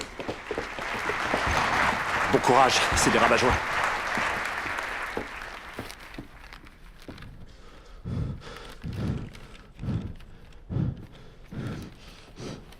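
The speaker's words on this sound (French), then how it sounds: "Et maintenant, on applaudit Dwight Schrute." A studio audience applauds Dwight Schrute at a sales convention, a dense wash of clapping for about six seconds that fades, followed by a few separate thumps and a brief spoken remark.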